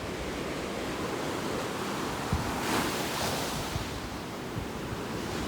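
Big ocean waves break on a foggy Belmar Beach, a continuous broad roar of surf with no voices.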